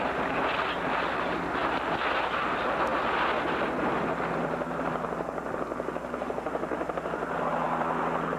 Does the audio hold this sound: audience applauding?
no